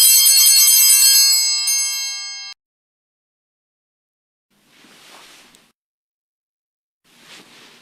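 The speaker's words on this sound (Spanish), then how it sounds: "sonar la campana una vez." A single altar bell rung once during Mass at the elevation of the chalice and host, a bright clear ring that decays over about two seconds, followed by near silence with two faint soft rustles.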